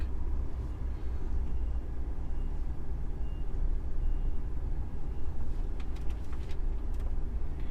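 A DAF XF 480 heavy goods vehicle reverses through a tight access, its engine rumbling steadily and loudly close by, with faint reversing beeps barely rising above the drone.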